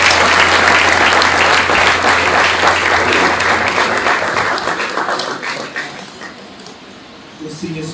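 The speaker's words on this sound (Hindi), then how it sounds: "बड़ी खुशी के साथ, तालियों के साथ प्रोग्राम की खिदमत करें" An audience applauds to welcome a program, loud sustained clapping from a crowd that gradually tapers off toward the end.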